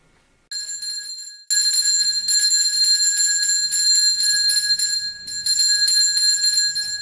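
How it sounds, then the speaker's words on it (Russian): A school bell rings loudly and steadily for the last day of school at a secondary school in Rybnoye, a continuous electric ring that starts, briefly pauses, then resumes for several seconds with no talk over it. "Последний раз звучит звонок для вас."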